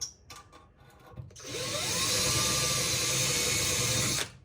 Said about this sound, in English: I've got a pilot point, and I drilled it, and it's sharp, and the damn thing is still jumping out of there